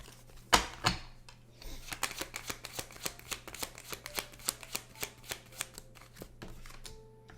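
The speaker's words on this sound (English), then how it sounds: "I shuffled this really well" A deck of oracle cards being shuffled by hand, a steady run of crisp riffling flicks and soft clacks, fairly close and quiet, with no talking.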